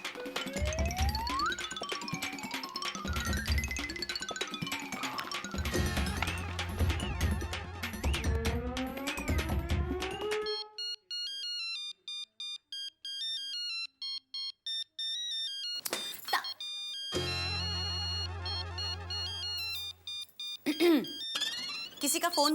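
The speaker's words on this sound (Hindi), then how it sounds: "किसी का फोन बज रहा है।" A phone ringtone plays in a repeating electronic melody, fairly loud, after a stretch of busy background music and talk; voices return afterward.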